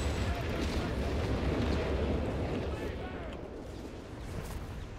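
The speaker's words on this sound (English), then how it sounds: "Man calls the naval artillery on himself" A naval artillery barrage in Company of Heroes 3 rumbles as a dense, continuous wash of heavy explosions and crackling debris, loud at first and easing slightly toward the end.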